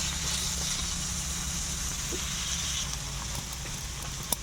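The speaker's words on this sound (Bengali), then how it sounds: "গাজরটা অল্প নেড়ে দেব।" Grated carrot frying in a pan for momo filling, a steady dense crackling sizzle throughout with a faint stir near the end.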